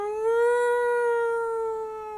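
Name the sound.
sirens of approaching pound trucks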